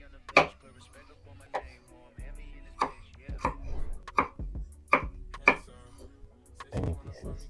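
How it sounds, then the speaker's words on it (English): A knife chops potatoes into small pieces on a cutting board, with close, sharp, irregular strikes repeating throughout and a voice speaking at times. "For potatoes, we'll cut them super small."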